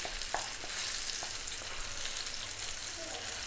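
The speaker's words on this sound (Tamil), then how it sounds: "மறுபடியும் ஒரு 5 நிமிஷம் வதக்குங்க" Masala sautéing in a pan for gutti vankaya (stuffed brinjal) biryani gives a steady, close sizzle, with a few soft stirring clicks over the continuous frying hiss.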